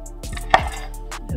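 A kitchen knife cuts through spaghetti squash, giving one sharp crack as the blade breaks through and a few dull thunks against the board. No one speaks.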